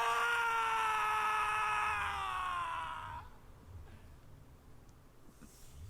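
A scream from the animated series RWBY Volume 7 Episode 12: a loud, sustained, high-pitched wail whose pitch slowly falls for about three seconds, then cuts off into quiet background.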